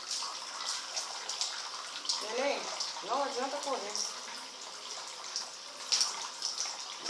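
Water splashing and trickling in a bathtub during a small child's bath, a steady bright wet spatter under a woman's gentle speech.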